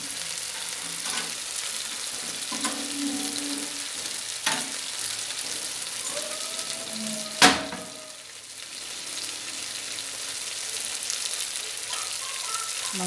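Food sizzles and crackles steadily in a hot pan during home cooking, a continuous close frying hiss broken by a sharp utensil knock partway through.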